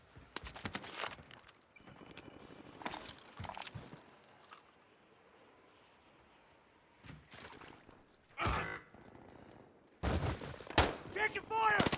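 Gunfire from the Call of Duty video game, scattered sharp shots in short bursts with a louder volley near the end, mixed with brief radio-style voices.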